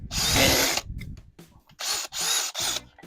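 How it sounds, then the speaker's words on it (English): A Dewalt DCD805B 20V Max hammer drill whirs loudly and up close as it bores in bursts, with one long run followed by shorter pulses and brief pauses. "Look how quick it drills, guys."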